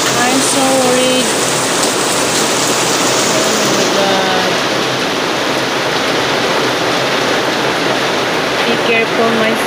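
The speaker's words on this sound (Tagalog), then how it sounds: "Oh my God, it's really heavy rain." Heavy rain pours down steadily in a continuous loud hiss, with someone talking over it at times.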